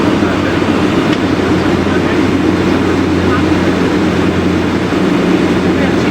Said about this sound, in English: Reapplied full power. There go the first pair of afterburners